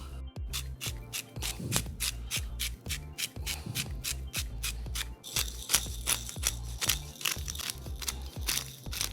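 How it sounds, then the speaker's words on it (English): Hands rubbing seasoning into a frenched rack of lamb, producing rapid rhythmic rubbing and scraping strokes, close and fairly loud, repeating steadily with no talking. "I'm just gonna rub that in. Really, this is just giving somewhere for all that seasoning to stick to."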